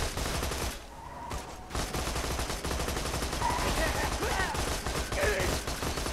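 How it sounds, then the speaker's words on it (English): Sustained gunfire in Borderlands 2, rapid bursts of automatic shots rattling continuously, breaking off briefly for a moment before resuming loud and dense. "we're shooting in there now, I guess."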